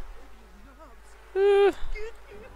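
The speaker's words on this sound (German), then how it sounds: "Wir haben uns jetzt mit den Bienen verbündet." A short, loud synthetic bee buzz from The Sims 4 Island Living, a single steady tonal drone lasting about a third of a second, set among quieter game sounds and music.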